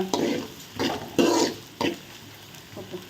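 Tomato thokku sautéing in a pan, with four or five distinct stirring scrapes over a low sizzle, close and fairly loud and without speech.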